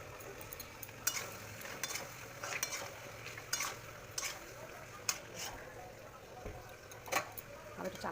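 Mutton stir-fries with spices and a splash of water, making a low continuous sizzle under repeated rhythmic spatula scrapes and taps on the pan, with a voice faintly present at times.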